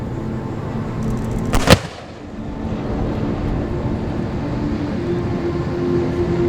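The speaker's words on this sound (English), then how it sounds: "The rate of fire from the mortars is determined by the intensity of the battle" An 81mm mortar fires one loud, sharp report during a military firepower exercise, followed by a decaying rumble and then steady background noise.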